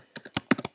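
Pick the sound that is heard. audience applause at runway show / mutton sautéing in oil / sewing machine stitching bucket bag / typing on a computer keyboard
typing on a computer keyboard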